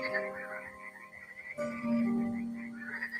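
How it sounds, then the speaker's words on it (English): A green frog croaks in a steady, rattling run of low calls, fairly loud and close, with sustained tonal layers beneath it and no voices. "I see a green frog looking at me."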